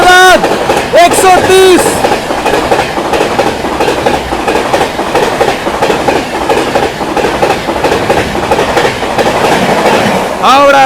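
The New Delhi–Howrah Rajdhani Express rushes past at speed, loud and close, with a continuous clatter of wheels and coaches, brief squealing tones near the start and end, and someone talking over it.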